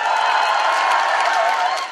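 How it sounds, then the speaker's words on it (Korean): A large crowd at a political rally cheers and applauds continuously for two seconds, a loud, dense roar of clapping and shouting that tapers slightly at the end. "자, 함성과 큰 박수 부탁드리겠습니다"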